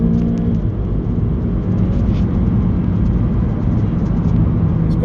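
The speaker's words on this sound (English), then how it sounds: "you get it into sports mode and it just flies through those gears" Audi A1 S Line Black Edition 1.4 TFSI S tronic, 185 bhp, accelerating hard in sports mode: a loud, continuous engine roar with road noise, heard close up from inside.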